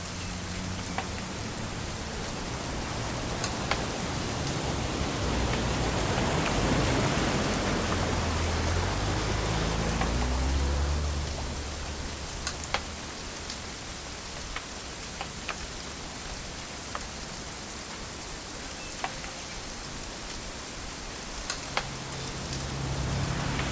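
Rainfall in the video game What Remains of Edith Finch, a continuous hiss that swells louder midway then eases, with scattered distinct drip ticks throughout.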